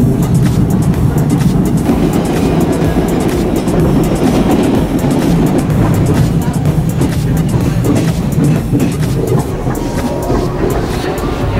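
A PATH subway train rolls along toward Newark Penn Station, a continuous loud rumble and rattle of the rail car with faint clacking over the tracks, heard from inside throughout.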